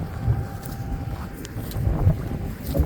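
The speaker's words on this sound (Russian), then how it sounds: "Сегодня не в пример вчерашнему ветер." Strong cold wind gusting across the microphone outdoors near a forest, a steady low rumble with buffeting swells throughout.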